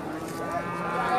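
A Friesian bull calf at a cattle market in Pabna gives a single drawn-out moo, close and clear over low market background noise.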